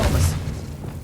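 A brief muffled boom with a soft thud from the Expelliarmus disarming spell in Hogwarts Legacy, a close, low burst at the start that fades within a second.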